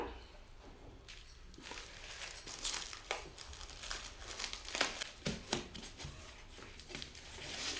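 Plastic packaging around newly delivered steel kitchen products is torn and crinkled open by hand, with irregular close rustling and sharp crackling bursts that grow busier toward the end, heard alone without talk.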